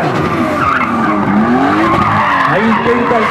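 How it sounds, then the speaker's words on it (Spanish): A drift car with a Toyota 2JZ engine skids hard at a drift championship event, tires squealing loudly and continuously over the roaring engine, close and dominant throughout. "Sigue Gabriel. Él viene de Alajuelita, San José, acelerando con 2JZ"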